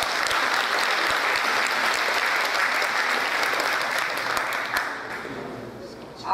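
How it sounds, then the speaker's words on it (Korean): Loud, sustained applause from a large audience at a year-end banquet, dense clapping that thins out toward the end. "다시 한번 우리 다 같이 박수 좀 쳐주시겠어요?"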